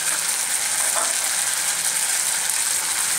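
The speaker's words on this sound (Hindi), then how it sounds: "थोड़ा देर तक फ्राई होने देंगे" Chilli chicken with green and red chilli sauces sizzles and fries steadily in a pan, a constant close, loud crackling hiss with no pauses.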